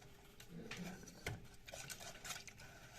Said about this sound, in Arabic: هقلبه طبعا.